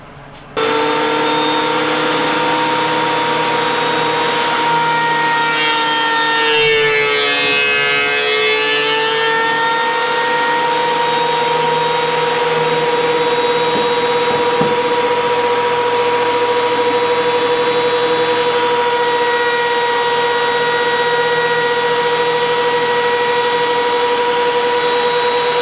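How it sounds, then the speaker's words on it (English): Wood boards run through a planer, a loud continuous machine whine with steady tonal hum that holds for the whole stretch and swells briefly as a board feeds through, with no voices. "So let's get these through the planer and get them glued together."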